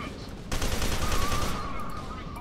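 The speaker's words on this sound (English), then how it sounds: "I'm being shot at." Rapid gunfire from replica soldiers in the shooter game F.E.A.R. 2 bursts out as a dense, loud rattle of overlapping shots, with game sounds layered beneath.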